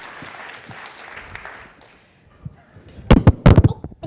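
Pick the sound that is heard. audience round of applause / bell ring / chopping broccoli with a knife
audience round of applause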